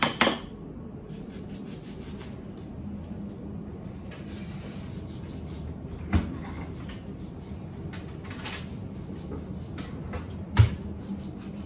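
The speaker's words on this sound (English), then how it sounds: "You can give your zester a good tap against your bowl to make sure" A zester rasps steadily against a lemon over a kitchen bowl, with a few sharp taps of the tool on the bowl rim near the start and later.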